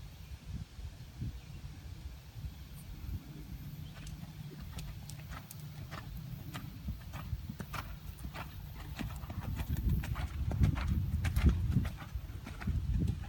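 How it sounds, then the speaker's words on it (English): A horse canters outdoors, its hooves striking in a steady rhythmic clip-clop over a rumbling, rustling background that grows louder toward the end. "And let's canter."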